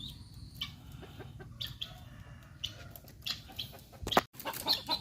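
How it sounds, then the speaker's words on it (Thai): Crossbred jungle fowl, year-old breeding stock and hens kept for eating, cluck and call intermittently at a farm. The calls are short and scattered, moderately close, over steady low background noise. "ส่วนนี้คือไก่ตัวเมียนะครับ"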